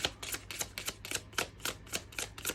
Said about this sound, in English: Wow, smooth shuffle